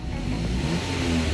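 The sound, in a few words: Mazda 5 GT minivan engine revving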